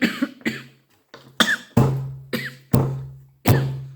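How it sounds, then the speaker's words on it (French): A person with a scratchy throat coughs repeatedly, about seven sharp, close coughs in uneven bursts, with brief breathy pauses between them. "je sais pas pourquoi j'arrête pas de tousser comme ça"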